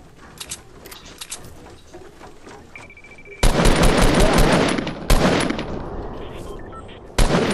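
Video game gunfire: scattered clicks and small pops first, then loud sustained bursts of automatic fire with sharp individual shots punctuating the stretch, close and dominant.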